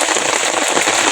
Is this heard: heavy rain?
yes